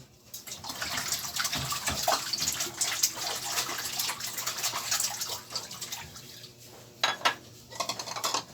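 Dishes, including plastic ones, rinsed under running tap water, with an ongoing splash and patter of water and light clinks of plates and utensils at close range.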